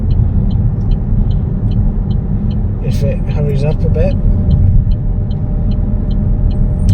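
A Vauxhall Grandland X 1.2 turbo joins a bypass, with a steady low engine and road rumble heard from inside the cabin and a soft periodic chime, as someone talks briefly over it.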